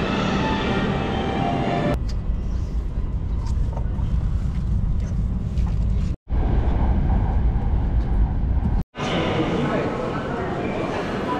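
JR train ride toward Hakodate, Japan, with a loud steady interior rumble and roar of the moving carriage, broken by two abrupt cuts.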